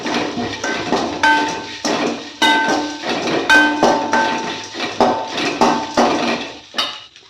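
Dry roasting ingredients for a yam sambar in a pan on a low flame: a spatula clanks and scrapes against the metal in loud, rhythmic strokes, repeating steadily throughout.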